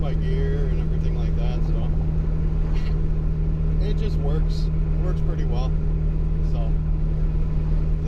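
A turbocharged 2008 Honda Civic Si pulls briefly under acceleration, its steady engine drone loud and close inside the cabin beneath someone talking throughout.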